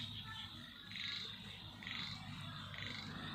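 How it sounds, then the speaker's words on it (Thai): Frogs croak in the countryside at dusk as a chorus of rhythmic, pulsing calls repeating about once a second. The calls are moderately distant over a steady low background, with no talking. "เสียงกบเสียงเขียดกับพี่น้อง"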